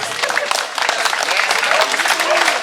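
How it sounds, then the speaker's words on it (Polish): Audience applause at the Szamotuły night 5 km run, honoring the family of the race's patron: steady, dense clapping from a sizeable crowd throughout, with faint voices mixed in. "Wielkie brawa, proszę Państwa!"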